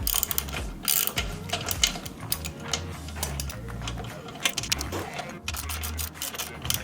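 A ratchet with a 17mm socket on an extension, tightening a motor mount on a 2022 Kawasaki ZX6R, a rapid, close run of metallic clicking in repeated strokes with brief pauses between them.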